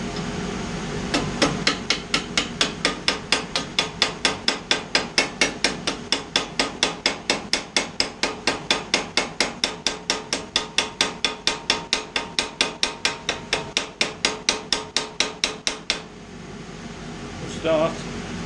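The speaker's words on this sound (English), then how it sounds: "Ball peen hammer." Ball peen hammer riveting a metal tong rack: a long, steady run of sharp metallic strikes, several per second, loud and close, for about fifteen seconds before stopping, with a faint mechanical hum underneath.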